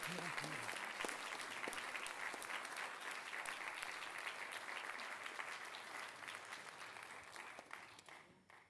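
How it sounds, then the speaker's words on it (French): Loud, sustained applause from a large crowd at the Bretzels d'Or 2021 ceremony for the Jaguars, a dense clapping wash that thins toward the end with some voices mixed in. "je crois qu'on peut les applaudir bien fort encore"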